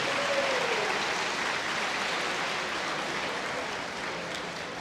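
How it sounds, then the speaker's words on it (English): Applause from a gala audience at a 50th anniversary celebration, a steady wash of clapping from a large crowd that holds evenly throughout without talk. "Let's give them all a great round of applause."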